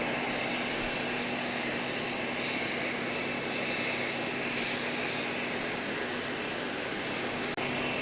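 A two-year-old Boeing 737 MAX 8 jet airliner arriving at Grand Cayman after a flight from Panama City, its engines giving a loud, steady, broadband roar that holds without a break.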